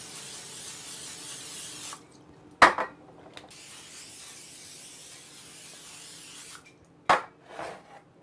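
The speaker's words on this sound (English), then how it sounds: "So I just spray some little spray on top of it." Two short bursts of an aerosol cooking spray hiss close by, over a quiet background hum.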